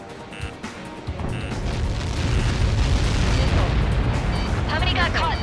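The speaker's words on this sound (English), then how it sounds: "How many got caught in that explosion?" A Helios projectile impact in the Ace Combat 7 video game sets off a deep rumbling blast that swells and rolls on for several seconds, loud and low, with a faint voice near the start.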